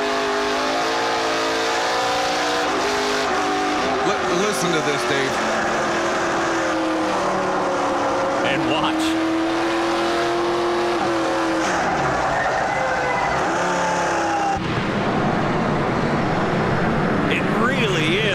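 NASCAR Pinty's Series stock cars racing at the Total Quartz 200, engines revving hard and shifting while tires squeal through a sideways corner, loud and continuous, with commentators talking over the action.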